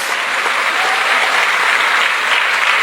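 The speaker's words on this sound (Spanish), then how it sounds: "Fuertes aplausos al Señor." Loud, dense applause from a congregation during a Spanish-language church service, continuous and steady throughout with no breaks.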